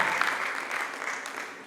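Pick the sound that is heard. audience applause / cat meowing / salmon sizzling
audience applause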